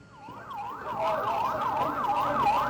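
An ambulance siren wails in a rising and falling pattern as it arrives at the Indonesia Hospital in Gaza, growing louder and staying prominent over faint traffic rumble.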